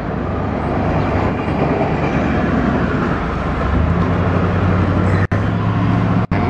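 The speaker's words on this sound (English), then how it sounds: "And this is what that other train was waiting on." A loud, steady freight train rumble with rolling rail noise and a faint clickety-clack, sustained throughout with two brief dropouts near the end.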